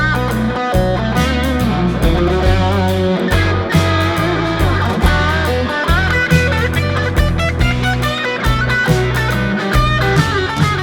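Electric guitar soloing in single notes with muted strokes, slides and bends, playing continuously at steady volume over a full band backing with bass and drums.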